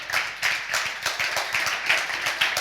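An audience claps in steady, rhythmic unison after a talk on data, art and algorithms, a moderately loud, even pulse of claps that keeps going without any voices.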